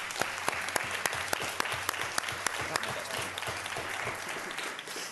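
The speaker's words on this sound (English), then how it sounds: "Let's give your parents particularly a round of applause." A crowd applauds for parents at a school board meeting, with many hands clapping steadily and a few sharp individual claps standing out close by, fairly quiet overall and without speech.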